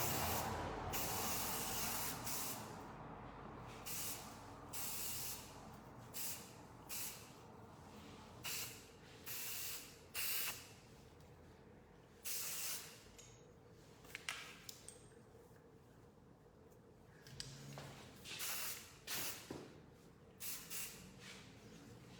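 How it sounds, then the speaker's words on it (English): Hairspray misted over a freshly styled layered bob, a series of short soft hissing bursts in an uneven rhythm, close and fairly quiet. "What's great about this hairspray, in which Eddie had mentioned is a winner"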